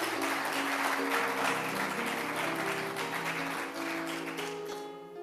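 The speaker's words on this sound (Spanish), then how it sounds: "Denle un aplauso al Señor." A church congregation applauds during a Spanish-language sermon, steady clapping under sustained organ or keyboard chords that fade toward the end.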